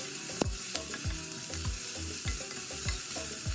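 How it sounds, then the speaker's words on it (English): One large chopped onion sizzling and being stirred in a pan, a quiet steady frying hiss marked by repeated scraping strokes of a spoon against the pan at a roughly even rhythm, close and with no voices. "I have 1 large onion here that I chopped up. I'm going to fry this until it goes"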